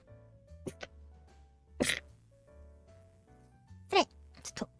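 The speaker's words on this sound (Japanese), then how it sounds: "くしゃみ出る。" Two sharp, explosive sneezes from a streamer, the second about two seconds after the first, each followed by smaller bursts, heard close and loud over faint background music.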